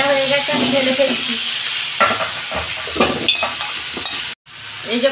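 Cauliflower and potatoes frying in a pan are stirred, giving a steady close sizzle broken by scraping strokes and clatter, with a brief drop to silence near the end before the sizzle returns.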